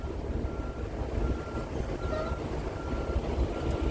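A tractor trailer reverses slowly while parallel backing, its engine rumbling steadily throughout as faint, evenly spaced reversing beeps sound over it.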